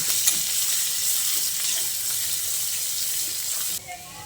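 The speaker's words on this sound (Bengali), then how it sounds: "এবার তেলটা গরম হয়ে এলে ওই মোটা করে পিষে রাখা মশলাটা দিয়ে দিচ্ছি। তারপর তেলে একটু ভেজে নিচ্ছি।" A coarsely ground spice paste fries in hot white oil, giving a loud, busy sizzle with a few clinks of stirring. The sizzle drops off sharply near the end.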